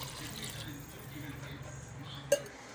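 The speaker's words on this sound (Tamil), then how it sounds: "இப்போ தண்ணி சேர்த்துக்கலாம்." Water is poured into a pot of chicken biryani masala simmering on a home stove, making a soft, steady splash with a single light metallic clink near the end.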